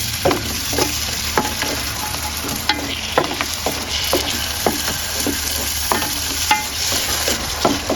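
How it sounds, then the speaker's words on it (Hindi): Frozen tomatoes go into a sizzling Nepali-style fish curry, raising a loud, steady hiss of frying broken by regular scraping strokes of a stirring spoon against the pan. "अब इसमें डाल देंगे टमाटर, ये फ्रीज़ करके रखे हुए हैं मैंने, तो ये इसमें डाल देंगे"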